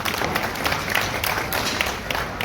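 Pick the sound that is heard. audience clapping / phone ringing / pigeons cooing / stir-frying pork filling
audience clapping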